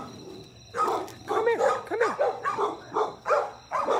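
Dog barking in short, repeated yips and barks with whimpery pitch slides, close and fairly loud, about eight bursts in quick succession at an outdoor cookout.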